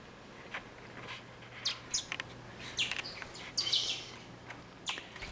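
Bourke's parakeets chirping indoors, a string of short, sharp, bright chirps and tweets arriving in irregular bursts, some clustered closely together, set over a low steady hum and otherwise quiet surroundings.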